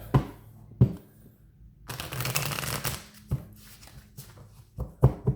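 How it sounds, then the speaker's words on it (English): Tarot cards shuffled by hand in short bursts of riffling and snapping, with a longer continuous shuffle in the middle, close and fairly quiet with no talking. "Alright, shuffle and see what we get."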